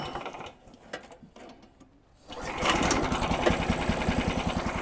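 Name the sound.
Snowdog Sport B13 MER engine pull-started and running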